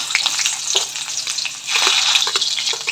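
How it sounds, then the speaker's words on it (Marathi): Chopped onion dropped into hot oil for a savoury semolina breakfast, giving a loud close crackling sizzle that flares up, settles briefly, then surges again. "आपलं तेल गरम झालेलं आहे आपण त्याच्यात कांदा टाकून घेऊ"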